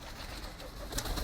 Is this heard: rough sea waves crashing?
no